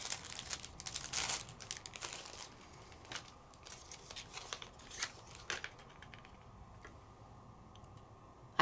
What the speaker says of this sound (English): I'm going to put my foil inside my embossing folder.